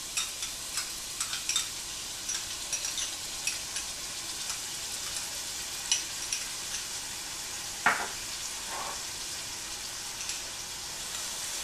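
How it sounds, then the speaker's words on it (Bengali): Ginger and garlic fry in 5 to 6 tablespoons of hot oil for beef rendang, a steady soft sizzle with scattered stirring clicks and one sharper scrape near the end. "এখন আমি এক এক করে তেলের মধ্যে আদা রসুনটা ঢেলে দেব।"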